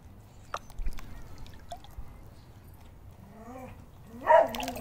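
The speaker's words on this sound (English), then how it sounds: "I'm sure these neighbors hate that dog, because he's out here barking at anything he can see." A pet dog beside a backyard pool with patio furniture gives a few short, fairly close barks and whimpers near the end of a quiet outdoor stretch, with faint clicks and drips before them.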